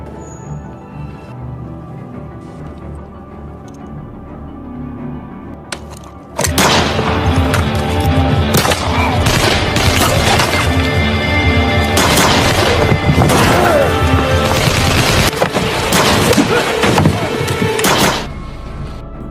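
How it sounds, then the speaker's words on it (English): A quiet stretch gives way to loud, dense bursts of gunfire and booming impacts that continue for over ten seconds, then drop off abruptly. "Leo also helped Ray, and a shootout was inevitable."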